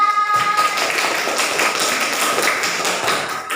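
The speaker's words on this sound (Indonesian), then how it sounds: "Tepuk tangan." Children clapping together in a classroom at the start of a lesson, a dense burst of many quick, overlapping claps for a few seconds, fairly close and alone without talk.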